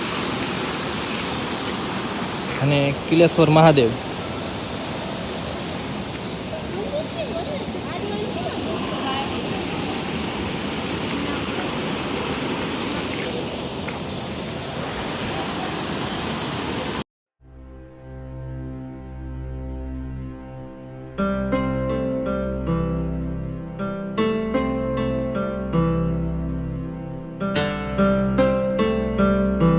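Steady broadband rush of a river flowing near the Kileshwar Mahadev temple under light rain fills the first half, with a person talking briefly; then music takes over.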